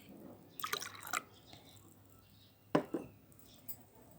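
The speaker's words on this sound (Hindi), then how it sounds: "इस ग्लास में हमने एक थोड़ा सा पानी डाला." Water poured in a small amount into a glass, with two short bursts of splashing and trickling plus faint clinks of the glass, quiet and close, in a calm room.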